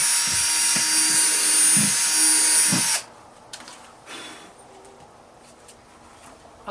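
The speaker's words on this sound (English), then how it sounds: "I need to put a bunch of holes in this pot." A power drill bores holes into a plant pot, a steady high whine for about three seconds that then cuts off, leaving quiet handling noises.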